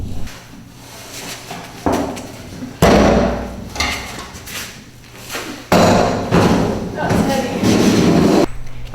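Heavy clunks and scraping thuds as a Boonedox Rod Pro metal rod locker is set on top of a vehicle, several loud knocks with rattling between, close by.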